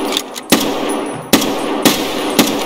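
Sharp, loud gunshots from a Mosin rifle in a shooter video game, four distinct cracks spaced about half a second to a second apart over steady background game noise.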